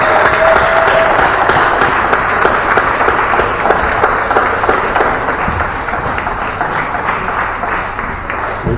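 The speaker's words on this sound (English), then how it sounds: "Would you please give them a round of applause as they come up to the stage?" An audience at a community volunteer-week celebration breaks into dense, sustained applause as volunteers come up to the stage, loud at first and easing slightly toward the end.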